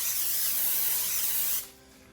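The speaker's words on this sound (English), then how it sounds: "now I'm going to spray it with some cooking spray" A continuous hiss of an aerosol cooking spray onto a griddle for about a second and a half, close and fairly loud, then cutting off abruptly.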